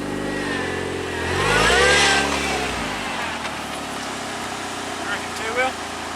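A turbocharged Suzuki Jimny revs on a beach, its engine note rising sharply and falling within a couple of seconds, then settling to a steady idle-like drone, with voices faintly present.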